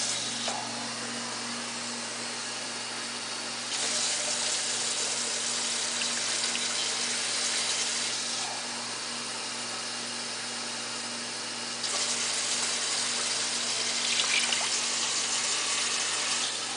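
Cold water, four or five cups, poured into a cooking pot of layered sauerkraut, a steady broadband rush in two long bursts separated by quieter pauses, close and alone.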